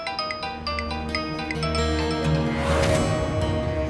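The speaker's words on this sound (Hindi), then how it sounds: "राज का फोन।" A phone ringtone plays loudly, a repeating musical melody of bright tones, with a rising whoosh near the end.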